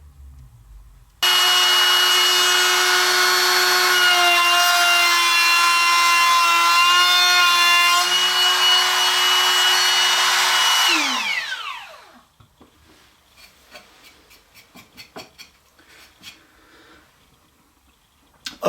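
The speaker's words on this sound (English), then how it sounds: "let's try to do some edge routing to see how it feels with a trim router and now this big base" A trim router fitted with a big base edge-routes wood, a loud steady high-pitched whine cutting for about ten seconds before spinning down, followed by faint clicks and handling noises.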